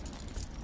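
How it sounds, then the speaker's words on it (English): House keys jingle as they are pulled from a Michael Kors satchel work bag. The metallic rattle is soft, brief and continuous, heard up close with no voices. "My keys. These are not my car keys. These are just my house keys."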